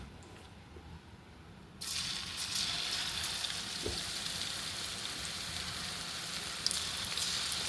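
Beans bajji fry in hot oil with a quiet bubbling sizzle that swells louder partway through as more pieces go in, staying soft and steady with no speech.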